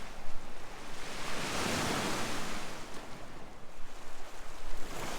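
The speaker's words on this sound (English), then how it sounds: "just enjoying the quietness and the waves" Ocean surf washes steadily onto the shore, a broad rushing roar that swells and recedes, with light wind over it.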